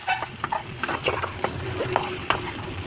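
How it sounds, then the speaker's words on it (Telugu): Chopped tomatoes drop into a hot cooking pan, giving a soft sizzle and light scraping stir sounds for a few seconds. "ఇప్పుడు మనం టమోటాస్ కూడా వేసేయాలి"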